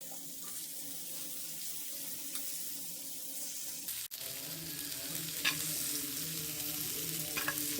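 Sliced bitter gourd fries in a pan on low heat, sizzling steadily while a utensil stirs and scrapes it, with occasional clinks and louder scrapes in the second half.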